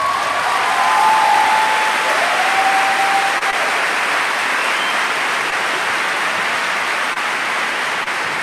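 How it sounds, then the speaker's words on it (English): Enthusiastic studio audience clapping to welcome a guest onto a podcast: a dense, continuous wash of applause at full volume, sustained evenly, with a faint high whistle or tone gliding briefly near the start. "I love the clapping."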